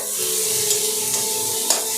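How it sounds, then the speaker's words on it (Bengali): Spices frying and being stirred in a pan, a continuous close sizzle with a few light scraping clicks of the spoon, no voices. "একটু নাড়াচাড়া করে"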